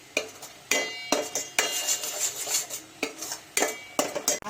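A spoon stirs lemon chutney roasting slowly in a steel pan, making close, sharp scraping clinks against the metal at an uneven rhythm of about ten strokes, with a soft sizzle underneath.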